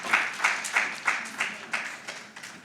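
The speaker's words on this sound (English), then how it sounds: "Please, let's clap for Dr." Sparse, fairly soft clapping at an African women engineers and scientists conference in Kigali, with about eight distinct claps in a slow, steady rhythm, heard from a distance.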